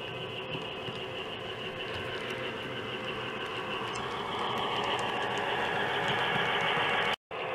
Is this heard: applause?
no